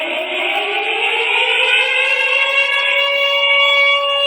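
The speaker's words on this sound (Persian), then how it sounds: "آژیر خطر در سرزمین‌های اشغالی" A warning siren of the kind sounded in the occupied territories, carried in a news report, wails loudly and steadily with a slowly rising pitch, with no voices over it.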